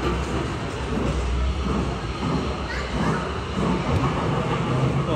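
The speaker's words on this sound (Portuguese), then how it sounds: "Olha o trem." A train rolls past along a covered street, a steady rumbling roar mixed with outdoor bustle and a faint voice, continuing evenly for several seconds.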